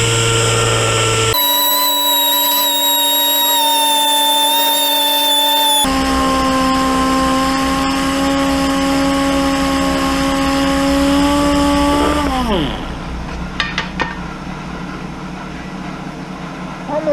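A Blue Point Snap-on pneumatic DA sander whines steadily, loud and close, shifting pitch as it works a surface for zinc plating prep, then winds down near the end.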